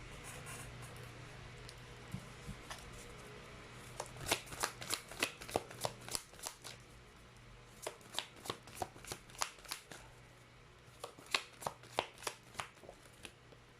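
Tarot cards are riffled and shuffled in quick, rhythmic runs of sharp flicks, close and fairly quiet, broken by short pauses, over a faint steady hum.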